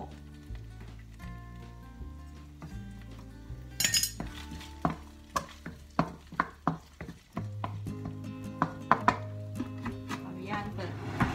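Dried chilies and garlic are pounded in a mortar for a Thai home-cooked dinner, giving a series of sharp, close thuds that start irregularly and then come in a steady rhythm, with a low background hum.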